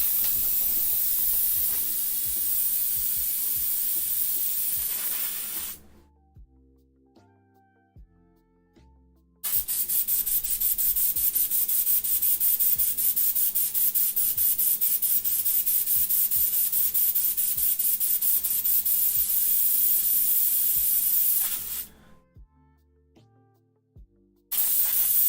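A steady, loud hiss of spraying runs for several seconds, drops out briefly, returns for a long continuous stretch and then stops again, with no voices.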